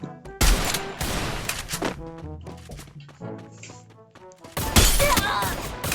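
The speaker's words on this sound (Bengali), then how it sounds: "তো আমরা আবারও ট্রাই করব উডপিকার দিয়ে, শটগান দিয়ে লাগাইলে কাজ হবে না, উডপিকার দিয়ে ট্রাই করতে হবে।" Loud bursts of Woodpecker gunfire in the Free Fire battle royale game, opening with a sharp blast, then a spell of tonal game effects and music, and ending in another heavy volley of shots.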